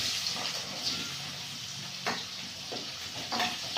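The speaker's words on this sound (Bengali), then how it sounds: "পেঁয়াজটা ভাজা ভাজা করে নেব।" Onions fry in hot oil with cardamom in a wok, giving a steady soft sizzle broken by a few sharp scraping stirs of a spoon against the pan.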